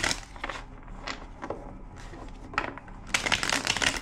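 Tarot deck being shuffled by hand, several separate bursts of crisp card riffling with short gaps between them, ending in a louder, longer shuffle.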